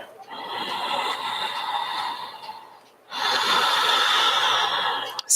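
Slow, deep breaths during a yoga session, each a long airy rush of inhale or exhale heard close and clearly, with a brief pause between two extended breaths.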